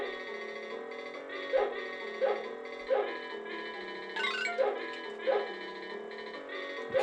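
Dogs bark in the SNES video game Family Dog, with short synthesized yaps at regular intervals over continuous chiptune-style game music.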